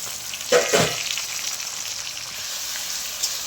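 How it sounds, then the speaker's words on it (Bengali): Green chillies and chopped tomato dropped into a pan for a fish curry, a burst of sizzling and clatter up front settling into a steady, rain-like frying hiss. "3 টুকরো কাঁচা লঙ্কা, টমেটো কুচিটা দিয়ে দিলাম।"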